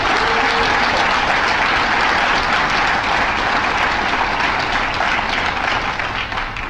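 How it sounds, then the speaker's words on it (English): A crowd at a political rally in Milwaukee gives a loud, sustained round of applause, many hands clapping in a dense continuous wash close by, with faint crowd murmur and no speech over it. "let's give her an extra special round of applause when she gets out here"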